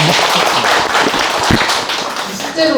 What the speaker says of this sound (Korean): 한번 큰 박수 부탁드립니다.